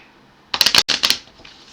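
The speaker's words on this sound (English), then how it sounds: "Let's shuffle the hostiles deck." Close, quick riffle of a hostiles deck of game cards being shuffled: a short burst of crisp flutters broken by a brief pause, then one more riffle that fades out.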